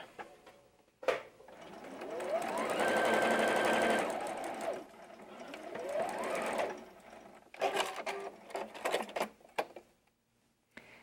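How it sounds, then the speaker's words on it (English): Sewing machine stitching quilt fabric, running in two sustained whirring bursts with a rising whine, then short stop-start stitches for a backstitch; close and clear, no speech. "I'm going to sew from the beginning, and I'm going to stop an inch before the end of the fabric."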